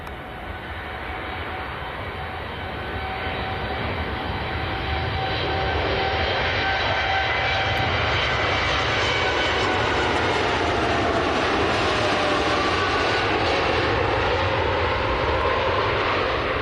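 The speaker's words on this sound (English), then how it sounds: "Dreamliner on the roll" A Boeing 787 Dreamliner jet makes its takeoff roll at Manchester Airport, bound for Cape Verde. Its engine roar grows steadily louder and then holds as a broad, continuous rumble heard from a distance.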